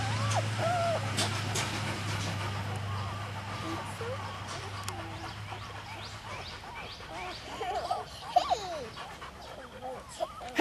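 Two-week-old Wirehaired Pointing Griffon puppies give soft high whimpers and faint panting close by, scattered squeaks growing busier toward the end over a low steady hum.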